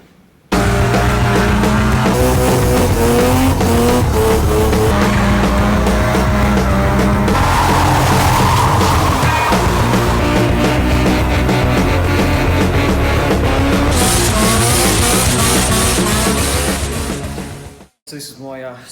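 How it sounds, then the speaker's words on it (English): A loud, continuous drone from a 1974 Mazda RX2 Capella's 26B four-rotor rotary engine with a rough, buzzy tone, running steadily at idle with slight revving before cutting off at the end. "This is my 74 RX2 Capella with a 26B 4-rotor engine."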